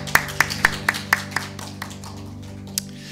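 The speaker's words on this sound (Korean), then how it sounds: "우리 가운데 오늘도 역사하신 그 하나님께만 감사와 찬양 박수 드리기 원합니다" Congregation clapping during a morning church worship service: a run of about six sharp, evenly spaced claps that fade, then one last isolated clap, heard over a steady low hum in the room.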